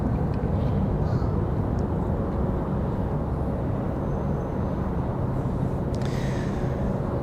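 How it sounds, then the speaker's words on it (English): A United Airlines Embraer E175 jet airliner at Raleigh Durham airport produces a loud, steady broadband roar throughout, with faint wind and ambient noise. "Got another E175 for United Airlines."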